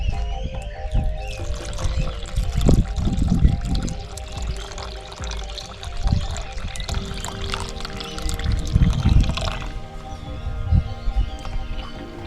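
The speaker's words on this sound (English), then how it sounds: "300 grams of water." About 300 grams of water poured into sourdough starter while making dough, a steady liquid pour heard over busy background noise and soft voices.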